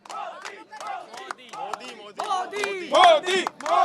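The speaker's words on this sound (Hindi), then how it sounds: "तो आप खुद सुन पा रहे हैं कि बिलासपुर की जनता मोदी मोदी के नारे लगा रही है" A rally crowd in Bilaspur chants "Modi" in a loud, rhythmic, repeated call, with many voices together close by and a few claps and shouts mixed in.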